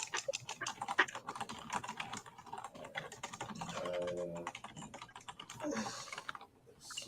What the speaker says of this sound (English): That one's beating the keyboard hard.